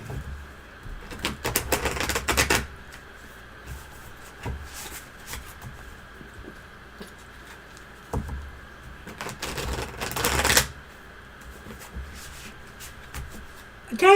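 A deck of cards being shuffled in two short, crisp riffling bursts several seconds apart, close and fairly faint, with quiet background sounds between them.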